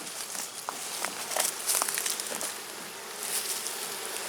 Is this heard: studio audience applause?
no